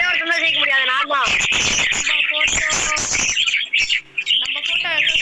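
Chirpy, warbling parrot calls from the Roblox video game come through loudly in bursts, mixed with excited voices talking and exclaiming over the game sounds.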